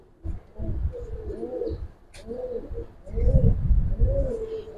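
Large Giribaz racing pigeons of the Palla line at a loft, cooing in repeated low throaty bursts close by, with no talk.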